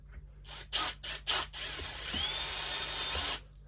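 An electric drill with a bit bores through a radio-control receiver and scorched standoffs, starting in several short whirring bursts before one steady, high-pitched run, then stopping.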